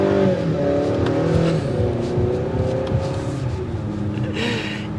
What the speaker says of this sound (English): That was a very performance style start to the new TLX